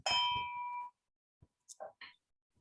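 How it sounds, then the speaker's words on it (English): A meeting bell struck once at a council meeting rings out with a clear sustained tone, followed after a pause by a few small faint clinks and knocks. "I will hit the bell one more time for everybody"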